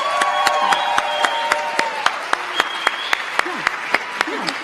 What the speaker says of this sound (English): Can we just have some applause real quick?